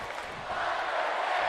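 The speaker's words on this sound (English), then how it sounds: "As the fans here in Las Vegas trying to cheer on The Undertaker" A wrestling crowd in Las Vegas cheering for The Undertaker early in a match against Shango, a broad roar of many voices that swells and holds steady, close and loud.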